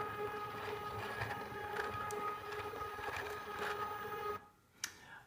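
A 3D-printed split ring compound planetary gear mechanism runs with a faint, steady whirring and rhythmic mechanical chugging, then stops abruptly near the end with a single small click.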